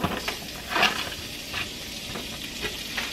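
Onions sautéing in a pan on medium heat, a close, even sizzle with soft stirring scrapes and a few brief clinks, heard alone for a few seconds.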